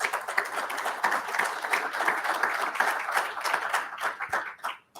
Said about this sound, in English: Please give our two sponsors a big round of applause.